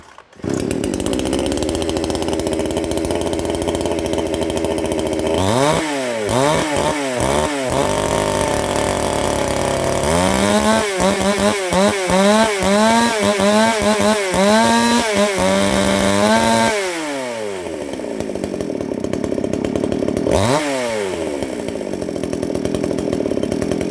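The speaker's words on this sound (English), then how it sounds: "So, let's get this thing fired up. Full choke, throttle hold." Salem Master 6220 chainsaw running loud and close, idling then revving repeatedly in rising and falling bursts, with a longer high-speed run before dropping back to idle.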